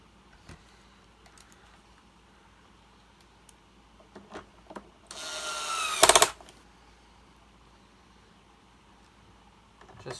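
A power tool drives the four screws that fasten the sole plate onto the base of a Hoover Turbopower 1 vacuum cleaner during a refurbishment, giving a single loud whirring burst of about a second amid quiet handling noises.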